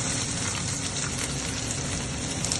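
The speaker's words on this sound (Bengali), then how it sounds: "এবার আমি পেঁয়াজ কুচিটা দিয়ে দেবো," Chopped onion hits hot oil with whole cardamom, giving a steady, dense sizzle close by that fills the whole stretch without pause.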